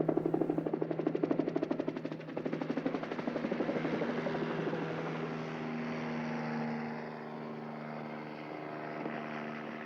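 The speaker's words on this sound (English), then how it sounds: "O'Brien must be the fucking helicopter pilot" A loud, steady helicopter drone with rapid rotor chopping that stays close and constant, then smooths slightly into a continuous engine roar.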